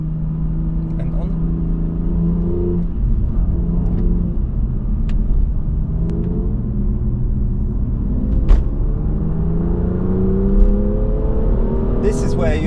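A BMW engine with Active Sound Designer on drones steadily with low rumbling harmonics that rise and fall as the revs change, with a voice talking faintly in the background.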